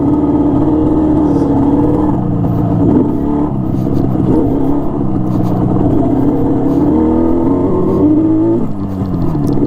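A Yamaha RD 350 HT two-stroke motorcycle engine runs close by with a loud, steady, rough idle, its tone wavering slightly as the throttle shifts, with no voices over it.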